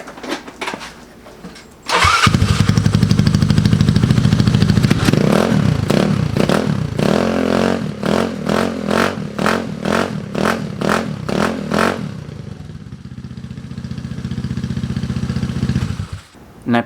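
A Honda Ruckus scooter's small engine with a new Yoshimura exhaust header starts with a clatter and runs loudly nearby, revving in rhythmic pulses before dropping back to a steady idle.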